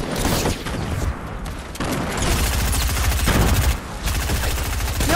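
Rapid, loud bursts of automatic gunfire in Fortnite, close and continuous, with brief pauses between volleys and no talking.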